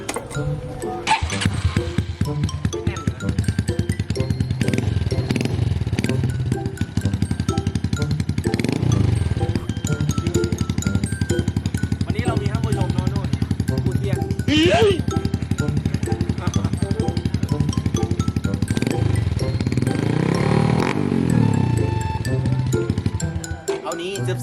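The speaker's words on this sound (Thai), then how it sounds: "มาฟังเสียงกันดีกว่า เสียงเคาโบ สเต็ป ลูก 50มิลพ่อ 53 รีแมป" A remapped Honda Wave 110i fitted with an aftermarket Cowboy exhaust and a 53 mm piston idles and revs near the listener, bursts of throttle rising over a rough, popping idle while someone talks throughout.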